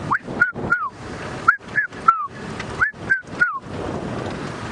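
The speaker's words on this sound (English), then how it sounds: "can hear a lot of birds calling" Birds give repeated loud, hooting two-part calls in bursts of two or three, close by, over soft outdoor background noise on a sunrise safari drive.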